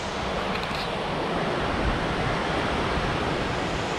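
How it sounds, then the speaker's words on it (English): Faery Falls waterfall pours in a dense, steady roar, loud and close, with broadband rushing water unbroken throughout and no voices. "We have a waterfall."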